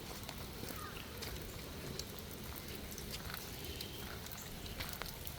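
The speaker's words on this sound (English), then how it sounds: "So, yeah, it's raining out here, and I'm foolish enough to be out here in this mess." Steady rain falls outdoors in the historic streets of Colonial Williamsburg, a dense even hiss with scattered drop patter, no voices, constant level throughout.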